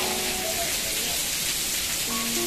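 Heavy rain pours at the Thanjavur temple, a loud, dense, constant hiss of downpour beating on surfaces close by, with faint tones briefly in the background.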